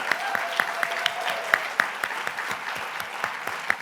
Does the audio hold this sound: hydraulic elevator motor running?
no